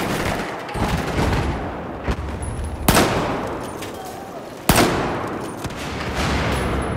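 Gunfire in Battlefield 4's Second Assault played on PS4: a dense, continuous rattle of shots with two sharp, loud blasts standing out, heavy and close.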